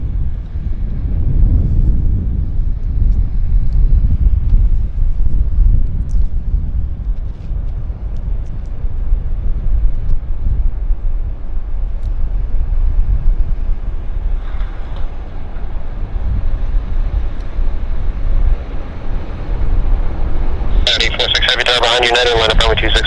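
A distant airliner rumbles low at Vancouver airport, swelling gradually under steady wind noise, with spoken commentary and radio chatter laid over it.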